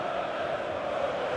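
Steady stadium crowd roar from an EA FC 24 football match, a continuous dense wash of massed voices holding at an even level throughout the short stretch with no distinct commentary on top.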